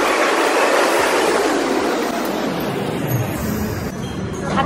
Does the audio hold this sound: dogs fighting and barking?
no